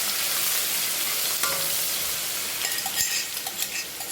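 Eight to ten garlic cloves fry in hot oil in a pan, a continuous close hiss with a few light utensil clicks and stirring taps toward the end, no voices.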